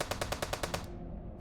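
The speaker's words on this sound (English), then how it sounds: "Automatic gunfire." Automatic gunfire in a sudden violent attack near a building: a rapid burst of about seven evenly spaced sharp shots over under a second, then a short silence before another loud sound cuts in.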